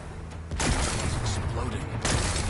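Rocks blasted apart in Horizon Forbidden West, a dense burst of rumbling explosive booms and crackling debris that swells loud after a brief quieter lead-in and stays heavy throughout.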